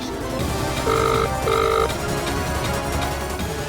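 A telephone rings in an indoor domestic scene, two short bursts of an electronic ring heard clearly over steady background noise and music.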